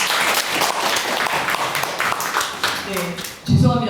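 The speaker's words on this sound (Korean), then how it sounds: "큰 박수로 환영 부탁드립니다." An audience at a media management society talk concert gives sustained, fairly loud applause to welcome a guest, the clapping running steadily before a voice begins speaking at the very end.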